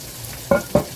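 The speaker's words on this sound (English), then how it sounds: "I think these potatoes are going to take a minute to start browning." Potatoes browning in a hot pan, a low sizzle under two quick stirring scrapes close by in a kitchen, with no one speaking.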